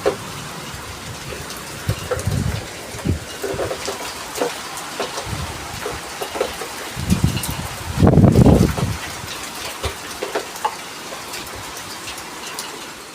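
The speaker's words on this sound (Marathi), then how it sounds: "इथे बघा पावसाची सुरुवात पण झालेली आहे आता खूप मोठा पाऊस येणार आहे" Unseasonal rain beginning to fall outdoors near a garden and clubhouse, heard as scattered patters and drops with a few louder gusty bursts, fairly close and without voices.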